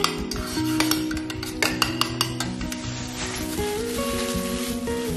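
A single egg beaten in a bowl, quick scraping and tapping strokes of a utensil against the bowl, steady and close over a sustained musical background.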